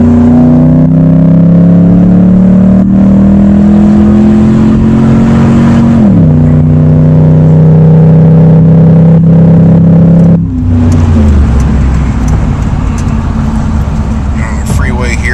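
A car driving across town and onto the freeway, steady loud engine drone with gear-shift drops in pitch and road rumble, with someone talking over it.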